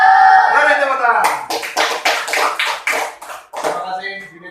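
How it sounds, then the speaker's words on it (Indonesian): A school class claps hands together after a voice speaks, a dense burst of rapid, loud claps lasting a few seconds and then trailing off into scattered claps, close and filling the room. "Mari tepuk tangan."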